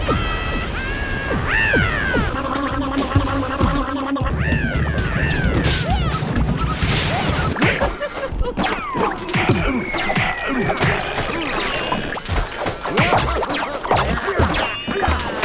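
Busy Rayman 3 enemy sound effects: harsh screeches, chirps and crashing hits pile up continuously, loud and chaotic, with no talking.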